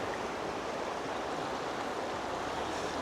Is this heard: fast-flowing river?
yes